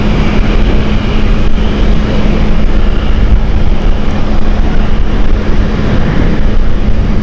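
An Aer Lingus airliner passes at Amsterdam Schiphol, a loud, close, sustained engine roar with a steady low hum running underneath, no voices heard.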